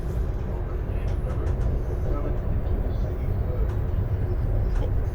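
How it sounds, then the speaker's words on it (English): An auto train pulls into the station at Norton, Virginia, a steady low rumble of rolling railcars filling the whole clip, heard close and continuous with faint background voices. "At the auto train in Norton, Virginia, pulling into the station."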